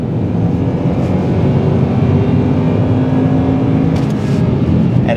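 A Honda Accord Euro engine roars steadily and loudly throughout, a sustained revving drone with a brief higher whine near the end as it hits VTEC.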